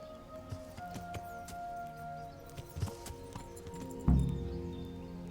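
Horse hooves clip-clopping in Kingdom Come: Deliverance, faint irregular steps over a quiet game ambience with birds, followed by a louder thud near the end.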